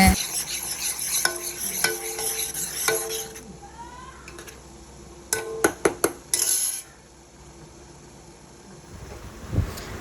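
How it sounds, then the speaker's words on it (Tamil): Oats and palm sugar stirred in a bowl with a spoon, giving repeated scraping clinks and taps against the dish, busy at first, then a burst of sharp knocks before it falls quiet. "நல்லா மிக்ஸ் பண்ணிக்கிறோம். இப்போது பண்ணுங்க கலக்குங்க."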